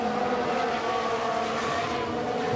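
Race cars roaring at speed in F1 Manager 22 during the Japanese Grand Prix, a dense continuous engine drone with tonal whine holding steady and loud throughout, after several cars crash.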